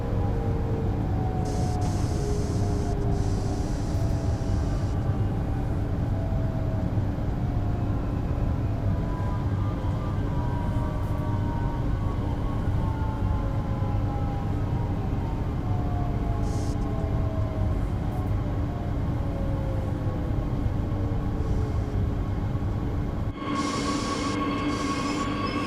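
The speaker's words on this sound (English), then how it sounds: "the environment and train sounds are really good and really spot on" Train running in Train Sim World 2: a continuous loud rumble of the rail car with wheels squealing in long gliding tones, close and uninterrupted, and no talking.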